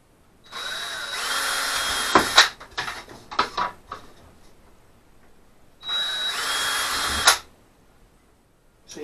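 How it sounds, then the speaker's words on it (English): Power drill boring holes in a panel: two loud whining bursts of drilling, the first about two seconds long and broken by short bumps and clatters, the second a steady run after a pause. "drill some holes, make them equidistant so it looks uniform"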